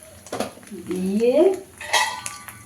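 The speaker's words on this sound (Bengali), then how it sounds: "ঢাকা দিয়ে কিছুক্ষণ টাইম দেব" A lid clanks onto a pan of banana-leaf wrapped potol and paneer paturi, with a couple of short metallic knocks set apart and a voice in between.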